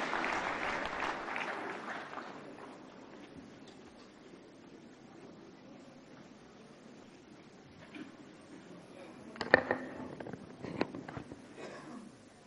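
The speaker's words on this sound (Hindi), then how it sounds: "कृपया तालियों के साथ स्वागत करें केंद्रीय सूचना एवं प्रसारण मंत्री श्री अनुराग सिंह ठाकुर का।" Applause at the 69th National Film Awards ceremony at Vigyan Bhavan greets the Union Information and Broadcasting Minister Anurag Singh Thakur, a broad, fairly faint wash of clapping that fades, followed by scattered louder claps and knocks.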